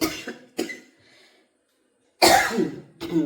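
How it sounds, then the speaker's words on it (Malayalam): A person coughs several times, short harsh bursts close to the mic, separated by a brief quiet pause. "ചുമ മാറിയിട്ടില്ല"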